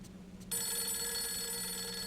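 A telephone rings in the survival horror video game Fatal Frame 3, a sustained electronic ringing tone that starts abruptly and continues steadily at moderate volume over faint background ambience.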